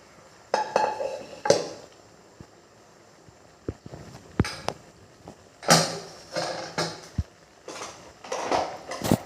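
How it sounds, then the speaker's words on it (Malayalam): Squid tossed with cumin and curry leaves in a pan, heard as irregular metallic clinks and scrapes of a utensil against the pan, coming in short bursts with brief quiet gaps between them. "നമ്മൾ നേരത്തെ റെഡിയാക്കി വെച്ചിട്ടുള്ള കൂന്തൾ ആഡ് ചെയ്യാം വെച്ചിട്ട് ഇതെല്ലാം കൂടി നന്നായിട്ടൊന്ന് മിക്സ് ചെയ്യാം"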